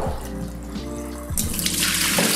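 Water pours out steadily as a pot of sliced potatoes is drained, a close, continuous splashing rush that grows louder and brighter partway through.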